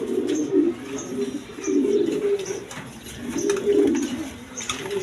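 Blue barless Lahori pigeons coo in low, throaty rolling bursts, several repeated calls close by against a soft background hiss.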